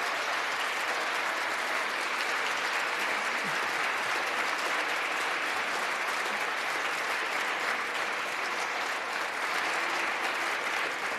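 Sustained applause fills the chamber of the United States House of Representatives, a dense, steady wash of clapping from a large crowd of members lasting throughout without pause.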